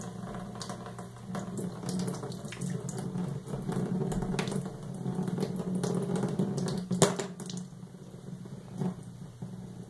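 Water gushes from a released valve on a porosity and permeability lab apparatus, a continuous close splashing flow into a container with occasional sharper spatters and a faint background tone.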